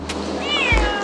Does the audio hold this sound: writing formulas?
no